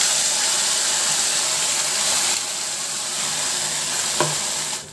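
Tomato and chili paste hits hot oil with ginger and garlic in a pan for momo chutney, giving a steady close hiss and sizzle with faint stirring, easing slightly midway and then fading at the end.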